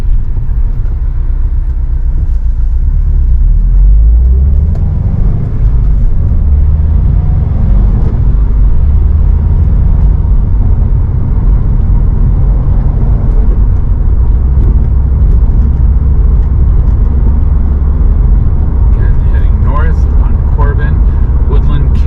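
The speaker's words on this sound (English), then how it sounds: "You can tell by the traffic, a more major north-south street." Road traffic on a major north-south street, a steady close rumble and whir of passing cars, heard from inside a cruising vehicle throughout with no break.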